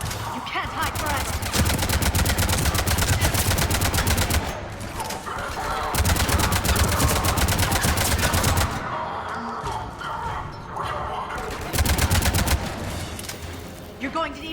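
Gunfire in the video game Mass Effect 3: sustained automatic bursts rattle loudly in several long volleys separated by short lulls, with voices speaking over the fighting.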